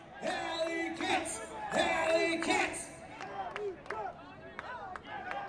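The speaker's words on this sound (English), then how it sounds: "Crowd getting back in it." A crowd at an ultimate frisbee game between the Indy Alleycats and Minnesota Wind Chill cheers and whoops from a distance, with scattered clapping, under a commentator's voice.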